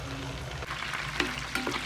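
Chicken fries in a pan with cinnamon, cloves, cardamom and onions, a steady close sizzle with a few brief clinks and stirring scrapes near the end.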